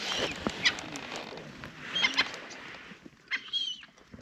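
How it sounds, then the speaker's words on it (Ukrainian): A duck quacks a few times in short, raspy calls outdoors at a first-ice fishing spot in Kherson, moderately close, with some rustling and background noise around it. "О, качечка прийшла."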